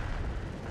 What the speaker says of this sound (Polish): Teraz Kilana strzeliła